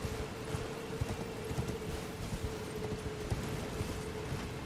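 A rider's horse in Elden Ring trots with a steady clip-clop of hooves, rhythmic and fairly close, over a constant hum of game ambience.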